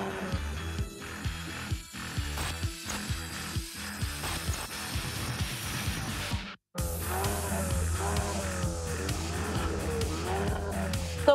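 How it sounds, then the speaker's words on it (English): A car driven hard on hot laps around a circuit with a professional driver, including runs through tunnels; the engine roars loudly and continuously, with gear-change dips and a brief cutout, and no talking. "We also went through some tunnels so that the players could experience the sound of the car."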